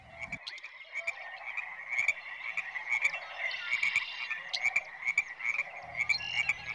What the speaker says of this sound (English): Some real frogs.